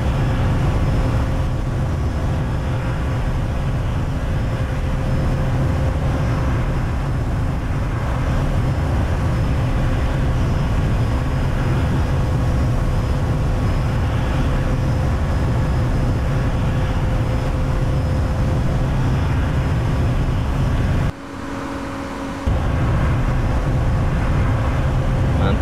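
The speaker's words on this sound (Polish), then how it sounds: "O, nawet słychać tutaj ten samolot." An Airbus A330 jetliner's engines in the X-Plane 11 flight simulator give a loud, steady, broadband roar with faint sustained tones, heard from the tail and unbroken except for a brief dip near the end.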